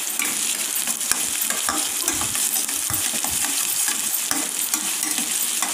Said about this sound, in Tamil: அப்புறம் கூட வந்து கொஞ்சம் ஒரு கொத்து கருவேப்பிலை போட்டுக்கிறேன்.